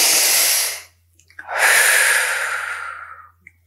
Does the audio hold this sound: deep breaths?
yes